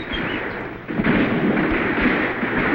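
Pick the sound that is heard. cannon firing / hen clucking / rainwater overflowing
cannon firing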